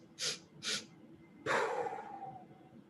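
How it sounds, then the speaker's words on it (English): Short nasal breaths: two quick sniffs, then a third longer, stronger one that trails off into a loud exhale, close to the microphone and alone with no talking. "So 3 sniffs and a pow."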